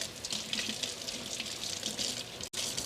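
Kitchen tap water runs steadily into a sink as green onions are rinsed, a constant close hiss of flowing water with no talking.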